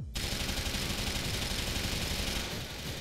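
Dense, continuous gunfire in Grand Theft Auto 4, with sustained rapid automatic shots and engine-like rumble running loud and unbroken from start to finish.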